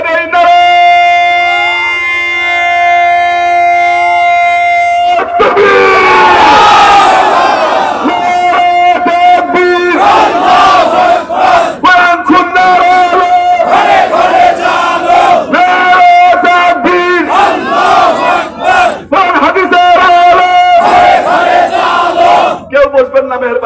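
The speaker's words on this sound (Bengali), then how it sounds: "একটা তাকবীর দিয়ে দেয় না" A large crowd at a Bengali religious sermon gathering on Shab-e-Barat night loudly shouts a takbir chant of Allahu Akbar in repeated surging waves, full and sustained, after a lone leader's call.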